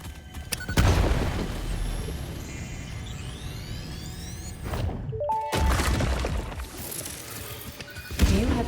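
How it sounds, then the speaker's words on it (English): Explosions in the video game Satisfactory boom and crash in repeated bursts, with sweeping synthetic tones and a loud final blast, nearly alone with almost no talk over them. "I turn around and just hear explosions going on behind me"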